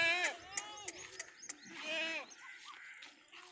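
Goats of a Sahiwal-type breeding herd bleat repeatedly, with several wavering calls close by, including a long drawn-out cry near the middle, mixed with faint background voices.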